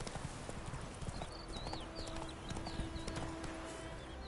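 Roach, a horse in The Witcher III, gallops with rapid, continuous hoof clip-clops at a steady rhythm, mixed with game ambience and faint bird calls.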